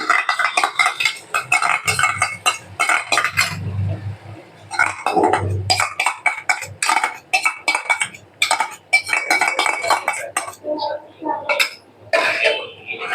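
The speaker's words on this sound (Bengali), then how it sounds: "টক দইটা দিয়ে ভালো মতন ঘেটে দিতে হবে" A utensil stirs sour yogurt into nearly cooked meat curry in a pan for doi katla, making repeated scraping clinks against metal in an uneven rhythm. A voice speaks over parts of it, and a cough is heard.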